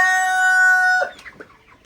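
Broiler chickens in a coop at night give one sustained, tonal call for about a second, followed by several short, quieter clucks close by.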